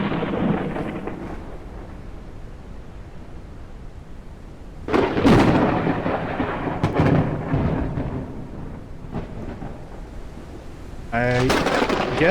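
Video game thunderstorm with booming thunder cracks that burst in loudly over a constant rain-like rumble, with a second rolling crash near the end.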